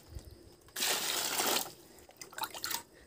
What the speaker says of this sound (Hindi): तो हम इसमें अभी पानी डाल देंगे